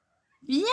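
A five-month-old kitten gives a single short, rising meow up close, right after a brief spoken word.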